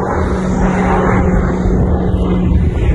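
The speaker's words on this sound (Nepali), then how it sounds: "हवाई जहाज" A fixed-wing airplane droning overhead above a high ridge in cold, windy weather, a steady broadband roar with a low engine hum, held at an even level for the whole stretch, with no talk.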